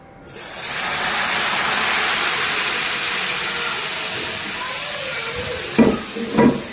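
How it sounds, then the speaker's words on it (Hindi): Loud, steady sizzling of tempering spices hitting hot oil for kadhi pakora, a dense crackling hiss that continues for several seconds, with a couple of soft clatters near the end. "अब हम इसको लगाएंगे तड़का"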